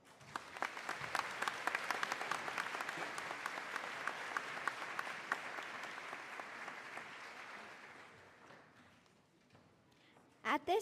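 An audience at a 5th grade celebration applauds the 5th grade orchestra: dense, sustained clapping that fades out gradually, with a couple of sharp knocks near the end.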